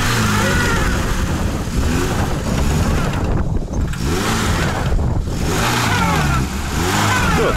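Lada Niva stuck in mud with its front wheel jammed by straps, engine revving hard in repeated rising and falling surges, loud and close, with brief dips between pulls.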